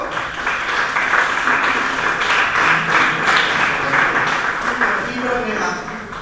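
Audience at a presentation of an Asturian film festival applauding in a steady wash of clapping, with people talking faintly over and under it throughout.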